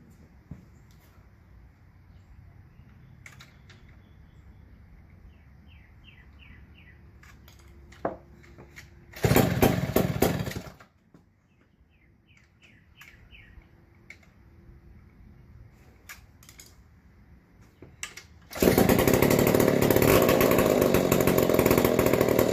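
A rebuilt McCulloch Model 73 chainsaw roars to life in two loud bursts, one short run that cuts out and a later sustained rev, between quieter stretches of ticking and small mechanical clicks.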